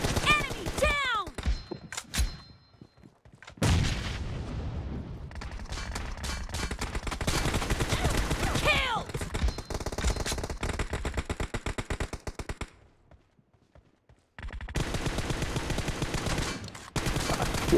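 Gunfire in the battle royale game PUBG: rapid automatic bursts and single shots crackling in long volleys, broken by a couple of short lulls before firing resumes.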